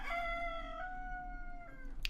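A rooster crows once in a long, drawn-out cock-a-doodle-doo, clear and close in a video game, ending with a short sharp click.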